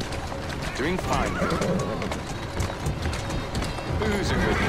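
A horse in Assassin's Creed Syndicate whinnies several times over a steady clip-clop of hooves and the rumbling bustle of Victorian London streets, with voices talking around it.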